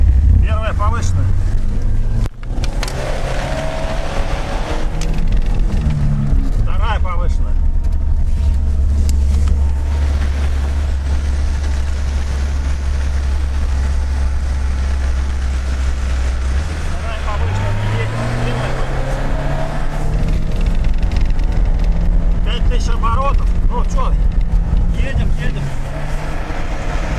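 A Lada Niva engine pulls away in first gear through snow, a loud steady low drone rising in pitch as it revs, under and between talk in the cabin.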